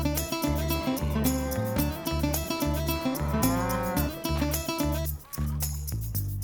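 A cow lowing on a farm where cattle are watered and fed fodder; a long, loud moo carries over a busy, layered background for several seconds, with no voices.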